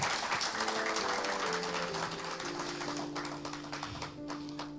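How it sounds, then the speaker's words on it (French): A church congregation claps together in praise, a dense continuous patter of many hands that goes on steadily with a sustained musical tone underneath. "If you are here, clap for the Lord."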